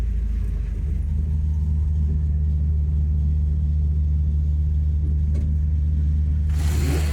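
Steady low engine rumble of a Subaru WRX with a six-speed manual swap driving, constant road noise throughout with a brief rise in hiss near the end.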